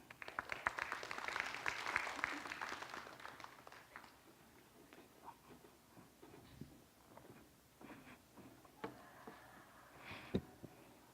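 Audience applause after a talk at a herbology conference, loudest at the start, then thinning into scattered claps and light shuffling, faint and somewhat distant.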